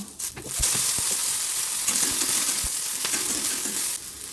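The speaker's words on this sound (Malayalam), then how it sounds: "അപ്പോൾ ഇതാ വെളുത്തുള്ളിയും ചുവന്നുള്ളിയും ഒന്ന് ചൂടായ ചട്ടിയിലേക്ക് ഇട്ട് കൊടുക്കുന്നുണ്ട്" Garlic and shallots hit a hot pan of coconut oil for a Kerala-style mutton curry, setting off a loud, steady sizzle with a few stirring clacks close up and no talking.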